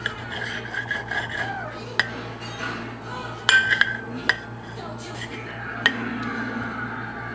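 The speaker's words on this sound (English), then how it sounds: "Tomatoes are always hard to cut." A knife slicing through tomatoes on a cutting board, soft rasping strokes with a few sharp taps of the blade against the board, close and fairly quiet.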